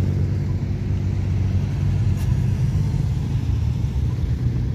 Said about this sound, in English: a nice TP Magna coming in